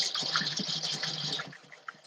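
Water pours and gushes in a fairly close, bubbling stream for about a second and a half, then stops and leaves only faint scattered drips and small sounds.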